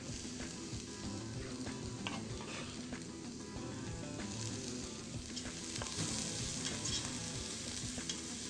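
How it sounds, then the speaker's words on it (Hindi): Chopped onions frying in a pan with browned garlic, a steady close sizzle with scraping and clatter from stirring throughout, no talking. "जैसे लहसुन ब्राउन हो जाए आप प्याज को पैन में डाल दें।"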